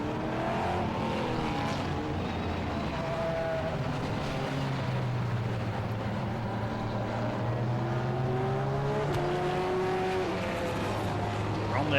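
Classic touring race cars, led by a BMW pace car, circle Silverstone on their green flag lap, engines droning and shifting pitch as they pass, with a commentator talking over the steady mechanical roar.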